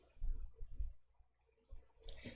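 Computer mouse clicks at a desk while working in Excel, a few soft, faint taps in quick succession, then a sharper click near the end against a quiet background.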